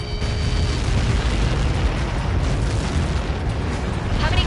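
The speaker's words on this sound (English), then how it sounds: "How many got caught in that explosion?" Massive explosion from a Helios projectile strike in the Ace Combat 7 flight combat game, a loud sustained roaring boom filling the whole stretch with dense low rumble and no break.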